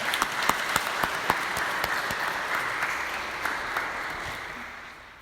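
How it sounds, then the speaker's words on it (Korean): A church congregation applauds during a Sunday service, crisp individual claps close by over a broader wash of clapping that gradually thins and fades toward the end. "다시 한번 박수로 격려하겠습니다."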